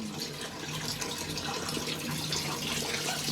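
Steady rush of running water splashing close by, continuous and fairly loud, like water poured or streaming during a bath.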